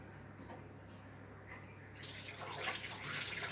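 Tap water running into a sink while a face is washed with face wash: a faint, steady hiss of flowing water that grows stronger and splashier partway through, with no voices.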